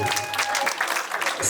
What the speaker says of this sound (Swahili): Makofi kwa ajili yao jamani